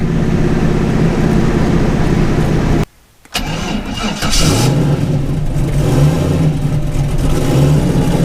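A turbocharged Mazda RX-7 engine at full throttle, roaring loud and close, cutting out abruptly for a split second, then surging back and building again in a steady, aggressive pull.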